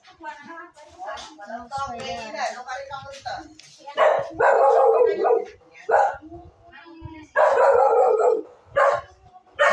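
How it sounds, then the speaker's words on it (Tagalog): A dog barks in loud bursts, mixed with people talking nearby, with a couple of strong barks standing out toward the end. "Ingay ng aso?"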